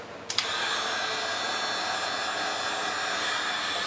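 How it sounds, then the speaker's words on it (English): A 1500 watt heat gun clicks on and then blows with a steady, loud, close whoosh that holds unbroken to the end, with no one talking. "1500 watt heat gun on her."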